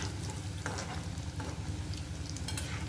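Batti dough balls fry slowly in ghee over a low flame, giving a steady, dense bubbling sizzle with a low rumble underneath and occasional faint scrapes, close and continuous, no talking.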